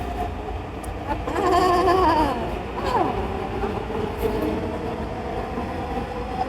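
A Dhaka metro rail train running, a steady rumble with rising and falling whine tones as it moves, heard from on board with no clear talk.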